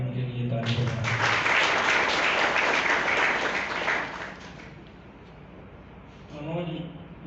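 Audience applause at a book launch ceremony swells into a sustained burst of clapping from a crowd, then fades back as a speaker's voice returns over the hall.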